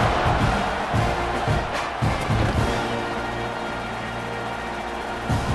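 A stadium crowd at an Ohio State vs Texas A&M football game gives off a dense, steady roar with a few rising swells of cheering near the start, before settling into a continuous wash of noise.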